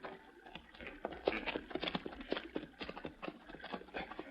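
Horse hooves clip-clopping in brush, a faint, uneven run of soft knocks and thuds at close range, with no talking.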